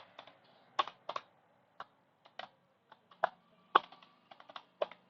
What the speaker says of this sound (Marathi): सिंपली मी याच्यात एखादा कोड लिहितो